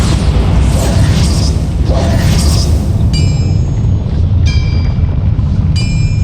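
A Bombarda blasting spell goes off in Hogwarts Legacy, a dense rumbling boom swelling over steady low background noise, with brief bright chiming spell tones ringing in toward the end.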